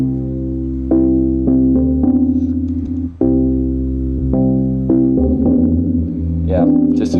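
Synth lead with no detune, filtered with a low pass and cutoff attacks, playing a steady sequence of bright, buzzy notes up close, each attack clearly marked and the tone thin and unwavering.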